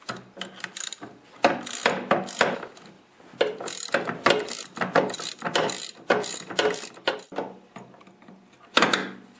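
Socket ratchet loosening bolts on an Ariens snowblower during a friction disc repair, a string of rapid clicking bursts repeating close up with brief pauses between strokes.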